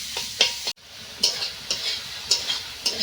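Leftover cold rice with cabbage and peas fries in a pan, with a soft sizzle broken by sharp scraping stirs of a spatula at an uneven pace, heard close.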